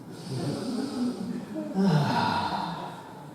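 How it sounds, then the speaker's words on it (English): A person takes one deep, audible breath, a slow airy inhale and exhale close to the microphone, with no words spoken. "Let's take a breath."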